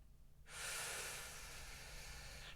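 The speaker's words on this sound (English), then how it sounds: "just breathing in through the mouth" One long, close breath drawn in through the mouth, a soft airy hiss that starts suddenly and holds steady for about two seconds in a quiet room.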